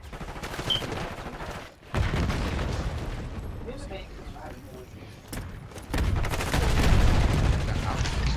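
A frag grenade thrown and going off in Black Ops 6, a loud burst amid dense gunfire and explosions in a chaotic multiplayer match, with players talking over the action.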